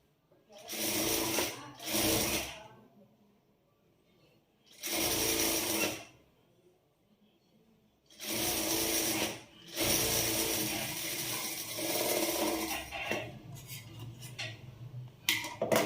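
A sewing machine stitches the lining of a cross-cut boutique-style blouse in several close bursts of rapid, whirring needle action. The bursts are separated by short pauses, and the last one runs longer.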